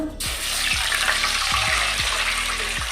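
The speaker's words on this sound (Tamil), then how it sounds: "3 டம்ளர் தண்ணி சொன்னோம் இல்லையா, ஊற்றிக்கலாம்." Water poured into a cooking pot for rice idli, a steady close, loud splashing pour filling the vessel for about three seconds, alone without talk.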